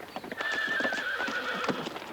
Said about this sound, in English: I think you're ruining that horse.